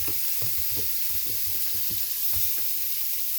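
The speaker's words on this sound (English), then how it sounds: "Put your mise en place in there to get nice and sauteed" Mise en place sautéing in an Instant Pot for meat sauce, a steady close sizzle with soft rhythmic stirring scrapes and clicks throughout.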